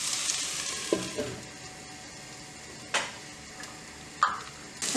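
Vegetables and capsicum cooking in a covered pan make a steady, faint sizzle, with a few soft clicks and knocks scattered through.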